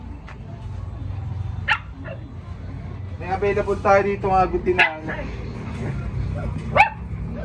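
A dog at a pet kennel gives short yips and whimpering barks, scattered and fairly near, under steady background hum while someone talks over it.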